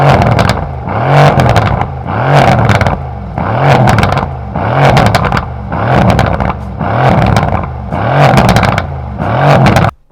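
A 2018 Mercedes C63s AMG coupe on its stock exhaust, about 50,000 miles, revs hard about eight times in a steady rhythm, each loud roar rising and dropping back, close and with no talking.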